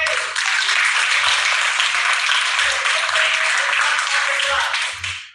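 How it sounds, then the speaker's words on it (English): Students in an instructional design class applaud a classmate named Chloe, producing a bright, steady round of close clapping that holds evenly and then stops abruptly, with low thumps beneath. "class, please give applause to Chloe"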